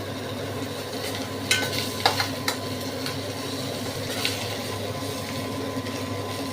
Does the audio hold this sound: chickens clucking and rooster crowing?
no